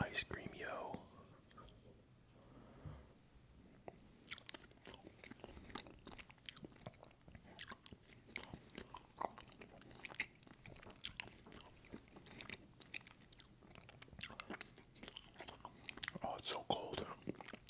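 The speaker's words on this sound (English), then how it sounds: "So I've got chocolate ice cream, just a little bit here, and we're just gonna get right into it." Chocolate ice cream being eaten up close for ASMR, with soft wet mouth sounds and occasional crunchy bites recurring throughout, under quiet whispering.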